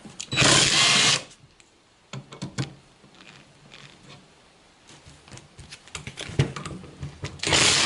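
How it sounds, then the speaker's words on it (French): An impact wrench with a 14 mm socket on a Traction 11 or 15 steering linkage lets out short loud bursts of hammering whir at the start and end, separated by quieter clinks and tool handling up close. "une douille de 14, une déboulonneuse"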